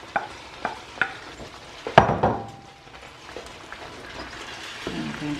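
Ghana jollof rice with tomato stew made from Dolmio bolognese sauce, stirred in a pot: a few sharp spoon knocks against the pot, then a scrape and a quieter stretch of stirring, close by, with no talking.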